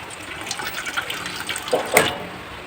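Water splashes into a pan of frying chicken curry in a continuous pour with a hissing sizzle, rising to a louder burst near the end.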